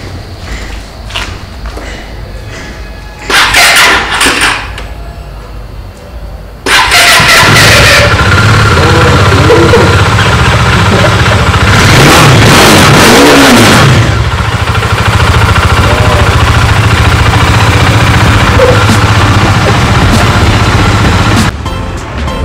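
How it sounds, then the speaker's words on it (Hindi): A Bajaj Dominar motorcycle left standing for two months cranks with a few short starter bursts, then catches and runs with a loud, close engine, revving up and settling back to a steady idle. "बाइक तो स्टार्ट हो गई एक बार में।"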